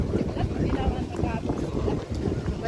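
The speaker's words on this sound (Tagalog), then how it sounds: "Malamig mahangin" Cold, gusty wind blows across the microphone in an outdoor park, making a continuous buffeting rumble while people talk nearby.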